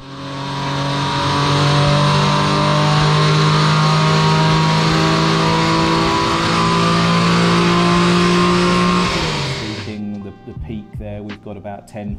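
A Porsche 996 Carrera 4 with its 3.6-litre flat-six revs hard on a dynamometer, a loud sustained roar climbing steadily in pitch for about ten seconds before dropping off into clattering idle and mechanical rattles.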